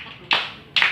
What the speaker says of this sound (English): So everybody, clap our hands all together!